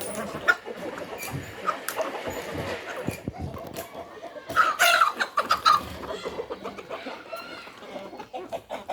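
Clucking from a rooster, with a few short bursts of the bird over a busy, noisy background and occasional voices nearby.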